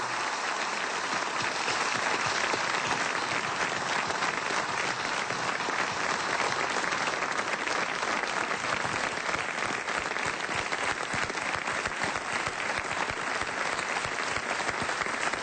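A large crowd gives loud, sustained applause in homage to Néstor Kirchner, a month after his death, with dense clapping from many people continuing steadily without pause.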